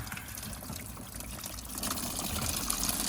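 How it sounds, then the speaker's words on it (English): Water running from a tap into a container at a fishing pond, a steady, moderately loud rushing and trickling that grows a little fuller as the vessel fills. "Fill it up with a little bit of water from the tap."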